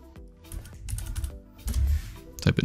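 Fingers type on a computer keyboard in quick, close clusters of clicking keystrokes with short pauses between bursts, and no voices.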